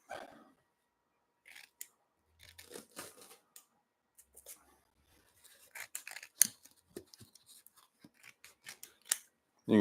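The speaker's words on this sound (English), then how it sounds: "You can trim the corners off to use the corners if you want" Scissors trimming the corners off a resin and yew coffee table project, heard as scattered close snips and cuts in irregular bursts with quiet gaps, fairly faint overall.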